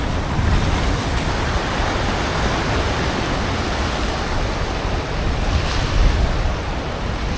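Strong wind gusting across the sea at a fishing spot during hot weather, a steady broadband roar mixed with surf wash and microphone buffeting, continuous and fairly loud with a stronger gust near the end.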